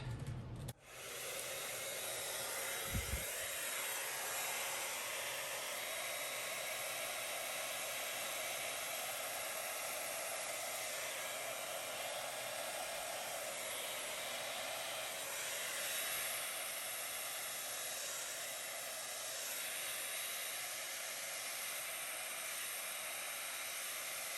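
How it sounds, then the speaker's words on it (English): A hair dryer blows steadily over wet paint with a loud, even whoosh that runs on without a break, after a brief click as it switches on. "I am gonna blow this out with a hairdryer and just see what happens."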